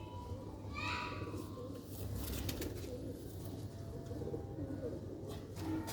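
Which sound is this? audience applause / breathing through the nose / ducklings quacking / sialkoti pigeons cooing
sialkoti pigeons cooing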